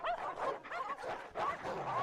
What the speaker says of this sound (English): As her footsteps faded, the sound of growls grew louder.